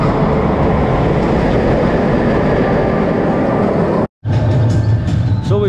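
The Galactica rollercoaster at Alton Towers roars past loud and close, a dense rushing rumble of wheels and wind that runs nearly unbroken, with one abrupt brief dropout before it resumes.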